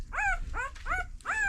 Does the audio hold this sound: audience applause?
no